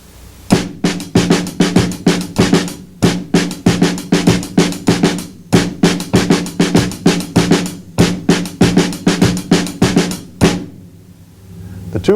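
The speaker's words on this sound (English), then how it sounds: "What I'll do now is play them as flat flams" Snare drum flat flams with both sticks striking together, a tight, crisp pattern of close, loud hits in repeating rhythmic phrases, with brief gaps between groups and a ringing tail at the end.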